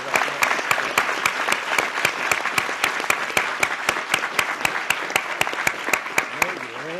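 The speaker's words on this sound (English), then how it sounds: "maybe we should give her a big round of applause" An audience applauding at the close of a debate session, with evenly spaced, crisp claps that sound like a small group or a single close clapper. The applause is steady and continuous throughout.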